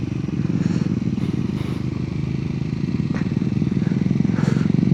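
A Royal Enfield Hunter motorcycle riding a mountain road in Ladakh near Shinkula, a loud steady engine drone with wind and some clatter, close and continuous, without clear talk.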